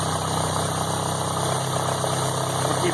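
A steady engine idle from a Mk2 Volkswagen GTI fitted with motorcycle carburetors, low and constant with a faint mechanical rumble and vibration throughout, no voices.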